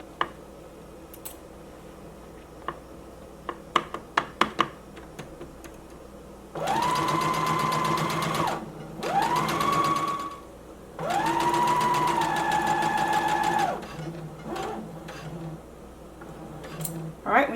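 A sewing machine stitches the casing of a drawstring elastic-waist maxi skirt in three sustained whirring runs of rapid stitching, each starting and stopping cleanly, with a few sharp clicks and taps of handling before the first run.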